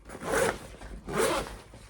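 A zipper on the underside of an Osprey backpack is pulled in two quick, close strokes, each a bright rasping zip separated by a short pause.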